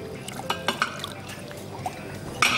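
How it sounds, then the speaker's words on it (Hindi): Hot water is poured into a cooking mixture of oil in a kitchen during a TV cooking segment, giving soft splashing and dripping with a few brighter splashes, close and moderately loud, with no voices. "ये गर्म पानी जाता है इसमें"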